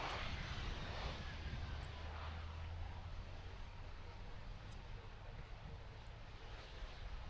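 Frontier airliner taking off from a busy cargo airport, a steady broad jet roar that holds loud and distant-sounding throughout, with faint talk briefly under it.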